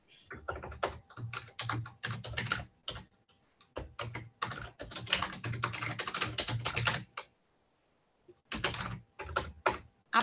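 Someone types on a computer keyboard in fast bursts of clicking, pausing for a few seconds in the middle and at the end, close up and with no talking.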